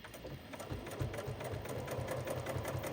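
Up close, a sewing machine stitches binding onto a fabric table runner in a fast, even, rhythmic chatter that runs throughout, alone and without voices.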